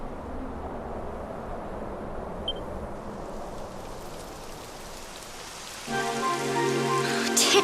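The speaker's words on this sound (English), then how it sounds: "It would have to go and start raining, wouldn't it?" Steady rain patters on surfaces in the Dragon Quest XI video game, a soft, even hiss that continues throughout. Tonal music swells in near the end.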